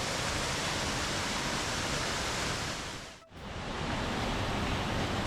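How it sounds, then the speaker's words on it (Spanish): Steady, roaring wash of a waterfall cascading down a rock wall into a river in a mountain gorge, loud and continuous, briefly dipping before returning at full strength. "Cae por la pared, se mete aquí y cruza el camino y para el río."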